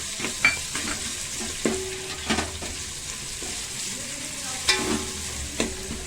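Chopped onions frying and sizzling in a pan for a Telugu makka jonnala gudalu dish, a steady hiss broken by several sharp stirring clinks and scrapes of a utensil against the pan, close and without speech.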